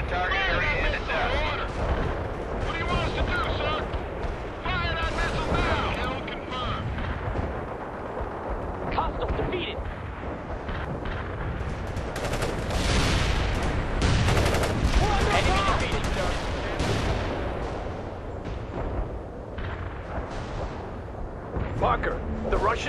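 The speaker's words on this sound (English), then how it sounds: "Delivering a rain of shells at target coordinates." Artillery shells burst in the World in Conflict strategy game as a long, dense barrage of booming impacts and crackling fire, loud and continuous for over twenty seconds, with radio-style voices speaking over the bombardment.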